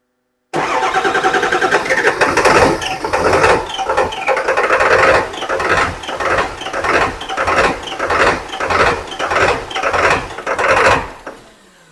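A 2002 Ford F350 that won't run cranks over and over, loud and close, in a steady rhythmic churn of pulsing engine turns lasting about ten seconds, with no talk.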